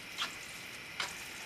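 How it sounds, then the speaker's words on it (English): A spoon stirs spaghetti squash through a meat mixture in a pan, giving soft scraping strokes over a steady low sizzle, close and quiet with no talking. "I'm just stirring just to incorporate and make sure that the spaghetti squash gets good and coated"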